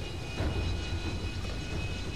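A helicopter flies in the video game Titanfall, its engine a steady, even drone that fills the whole stretch with no break and no talking.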